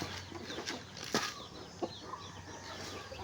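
Farm chickens in a rural yard in Mindoro, with soft scattered clucks and a couple of sharp wing flaps or scuffles, moderately close against a faint outdoor background.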